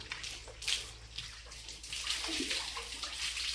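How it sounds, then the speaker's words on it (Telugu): Water splashes and pours steadily while buffaloes are washed, a continuous close rush with brief splashy surges and no talking. "నీళ్ళు దగ్గర ఖచ్చితంగా రెండు సార్లు కడుగుతున్నా"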